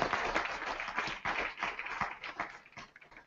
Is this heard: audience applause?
yes